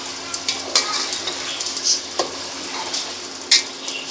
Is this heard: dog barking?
no